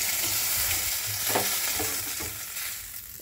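Lata fish frying with green banana in a home kitchen, a dense, steady sizzle of hot oil with occasional stirring scrapes, close and continuous with no voices.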